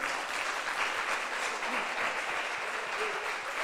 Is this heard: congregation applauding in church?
yes